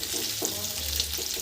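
Onion and capsicum fry for chilli chicken with a quiet, continuous sizzle and faint stirring, heard briefly without any voices.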